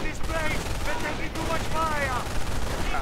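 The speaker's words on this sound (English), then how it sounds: "Heavy machine gun fire." Heavy machine gun fire in a World War II strategy game battle near a bunker, a steady dense rattle of bursts running throughout under other battle noise.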